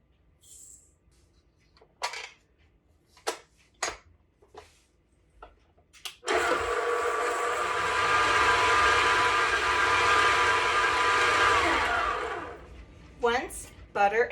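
Electric mixer creaming butter and sugar for pumpkin cookies, starting abruptly after several short knocks and handling sounds, then whirring loud and steady for about six seconds before stopping.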